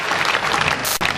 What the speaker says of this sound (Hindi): एक बार जोरदार तालियां सुनील जी के